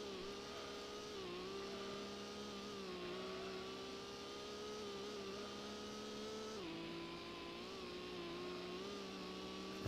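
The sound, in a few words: racing car engines in video game Gran Turismo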